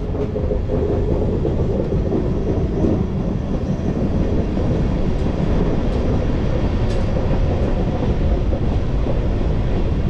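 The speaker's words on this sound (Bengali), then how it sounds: "আমাদের ট্রেন এখন যাচ্ছে গরুমারা ফরেস্টের ভেতর দিয়ে" A train rolls slowly through Gorumara forest in an elephant crossing zone, a steady loud rumble with faint clatter of the wagons running unbroken throughout.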